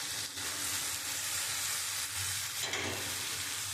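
Masala sizzling and frying hard in a pan for a rajma curry, with steady loud hiss and scraping stir strokes throughout, no voices.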